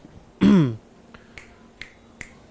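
One crisp finger snap sounds near the start, followed by a few faint clicks in an otherwise quiet room.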